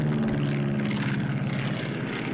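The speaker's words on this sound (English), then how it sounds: "The sky is not filled with, but the sky contains airplanes." A propeller airplane drones overhead, a steady broadband engine hum with low tonal throb holding loud and constant throughout, no voices.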